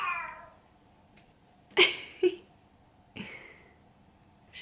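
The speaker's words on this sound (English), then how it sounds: "It's not the most melodic meow in the world." An indoor cat gives a couple of short, harsh, unmelodic meows, one quick cry after another, over a low background hum during a makeup session, with faint talk around it.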